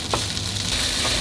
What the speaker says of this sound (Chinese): 做干炒一下这个豆干，大概让它每一个都有稍微的煎到一下